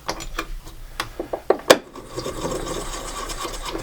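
A brass cartridge case is trimmed by hand with a rasping, scraping cutter, giving a series of short strokes and clicks that build to a sharp knock, then settle into a softer continuous grinding.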